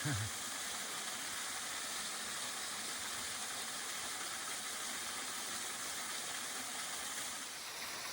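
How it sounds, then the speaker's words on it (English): Waterfall on a cool, shaded forest trail, a steady broadband rush of falling water that stays loud and unbroken throughout, with nothing else standing out. "once you're done checking out the waterfall"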